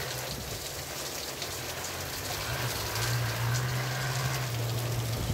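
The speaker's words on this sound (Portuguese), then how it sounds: "E vamos acompanhar essa chuva maravilhosa." Rain falling on a Sunday at a rural smallholding in Saloá, Pernambuco, a steady dense hiss of drops on surfaces, close and even, with a low hum rising in the second half.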